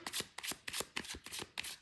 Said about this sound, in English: Generally speaking, you set the intention when you shuffle the deck.